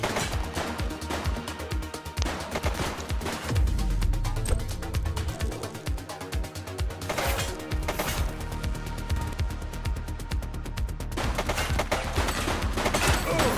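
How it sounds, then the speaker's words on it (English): Rapid gunfire in a video game police shootout, dense bursts of automatic shots and scattered single cracks, loud and continuous, with brief shouted voices among the firing. "He's shooting!"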